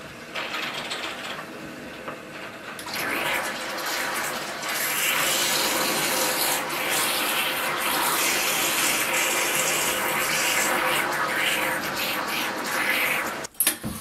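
Water and loosened debris gurgle and rush steadily up out of a clogged sewer drain as it is cleared, a continuous close wash with faint mechanical rattling and a sharp knock near the end.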